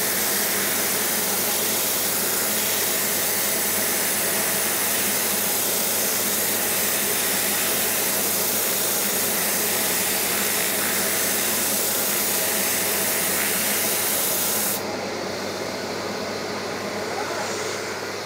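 Steady broadband abrasive hiss of sandpaper against a spinning wooden stool part on a lathe, with the lathe's constant hum underneath, running continuously and close before the sanding noise drops away near the end.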